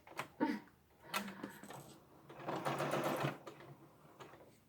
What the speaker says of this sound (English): I wonder how my embroidery machine is going to respond.